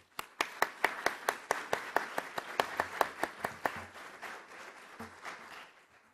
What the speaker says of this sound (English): if you can join me in giving our panelists a round of applause